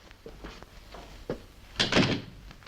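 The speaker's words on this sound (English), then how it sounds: "Marion, shut the door a minute, please." An office door is shut in a 1960s TV drama scene: faint shuffling movement, then one solid, close slam with a short rattle that quickly dies away, with no talk over it.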